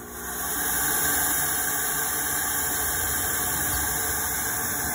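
A fog machine blasting fog through a large vortex ice chiller, a loud steady hiss and rush of air that rises quickly and holds constant.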